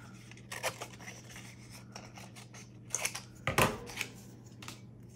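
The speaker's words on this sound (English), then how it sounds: "So I'm gonna cut some more" Scissors cut wavy edges from a paper scrap for a craft mini album, with quiet repeated snips and papery rubbing, a few sharper crisp cuts standing out near the middle and end.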